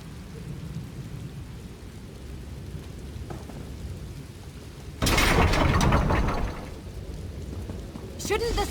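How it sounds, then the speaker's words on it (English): Thunder cracks loudly over steady rain during a thunderstorm in Elder Scrolls Online, with a broad burst of rumbling crashes midway and another sharp strike near the end. "Shouldn't the storm be growing weaker?"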